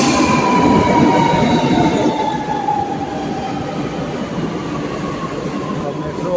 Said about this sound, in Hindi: अब मेट्रो आ गई।